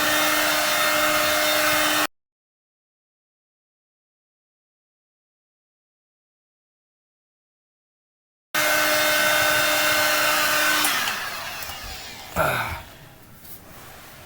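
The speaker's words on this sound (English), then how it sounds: "I think the heat gun is a mandatory tool for this job." Heat gun blowing steadily while warming seat covers in a 1992 Corvette, a loud continuous whoosh that cuts out, resumes, then fades with a sharp knock near the end.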